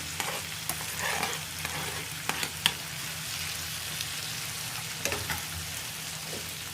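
Two medium tomatoes, thinly sliced, sauté in a pan until soft: a continuous soft sizzle runs throughout, broken by scattered clinks and scrapes of stirring.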